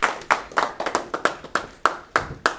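Audience clapping at a political rally, eight sharp claps in a steady rhythm with quick decays, fairly close and with no voices over them.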